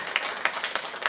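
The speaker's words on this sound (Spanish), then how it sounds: "denle un aplauso al Señor" A church congregation claps in praise during a Spanish-language sermon, a quick burst of scattered, uneven claps lasting about a second, moderately close.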